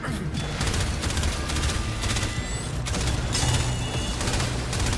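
A pulse rifle fires in Warframe, with rapid, crackling energy-weapon bursts in short repeated volleys over a low rumbling game backdrop.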